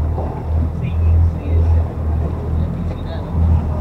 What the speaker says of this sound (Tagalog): Ang kanilang gamit ng makina ay Mercury. 115.